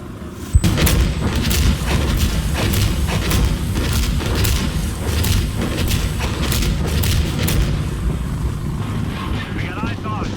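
Artillery fire in Insurgency Sandstorm: a sharp cannon boom opens, followed by a rolling series of heavy blasts and crackling impacts at a loud, fairly close level, with wind noise underneath.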